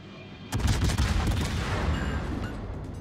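A Tier X Commonwealth cruiser, the Cerberus, fires its guns in World of Warships: a sudden heavy salvo of booming shots that rumbles on as a dense, loud volley and slowly eases off.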